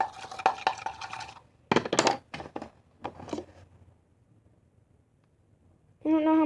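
Slime mixture being stirred: short bursts of sticky clicking and scraping taps in quick runs, then a quiet pause before a voice begins at the end.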